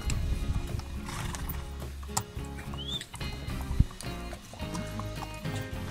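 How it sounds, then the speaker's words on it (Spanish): Horses walk along a trail in the Cocora Valley in Quindío with hooves clopping, and a horse neighs, over faint outdoor background noise. "Y a nuestro lado van los caballos."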